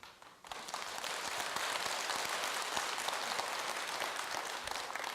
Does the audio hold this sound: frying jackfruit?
no